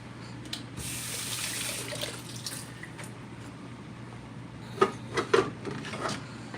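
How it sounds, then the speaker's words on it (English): Water pours steadily from a pot into a sink while turkey drumsticks are being cooked, a continuous splashing rush that thins out, followed by a few louder knocks and clatters near the end. "And I'm going to pour out this water."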